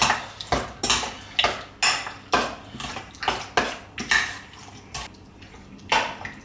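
Pork ribs are tossed with olive oil in a bowl before air frying, heard as a quick run of a dozen or so rhythmic clinks and scrapes of a utensil against the bowl, close and fairly loud, with no voices.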